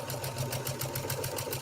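A sewing machine stitches steadily through a quilted baby blanket, its needle chattering in an even, rapid rhythm, close and fairly loud with no talking.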